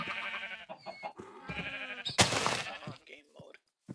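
Minecraft sheep bleating several times in short wavering cries, mixed with game sounds, while a person talks over them.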